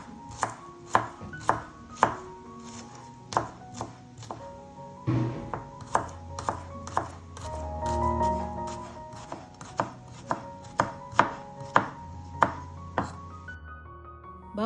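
A knife thinly slices shallots on a cutting board, producing a close, crisp series of evenly spaced chops, about a dozen sharp taps with a short cluster of quicker cuts midway.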